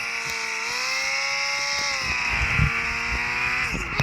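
Simulated car engine from the drifting game Project Drift 2.0, driven in first-person view, gives a steady droning hum with slight pitch shifts and a few faint skid-like bumps, running alone without talk.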